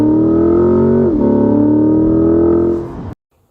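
A 2023 Corvette C8 pulls hard under full throttle, a loud, steady engine roar rising in pitch with a brief dip near the middle, then cutting off abruptly to near silence.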